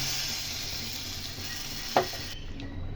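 Continuous sizzling in a pot of curry as fried spices are added, with a single sharp clink near the end before the hiss drops away.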